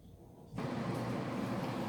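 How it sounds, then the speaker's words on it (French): A steady whooshing hum starts abruptly after a brief quiet moment and continues evenly, like an electric fan switched on nearby. "Désolée pour le bruit, mais j'ai dû mettre le ventilateur"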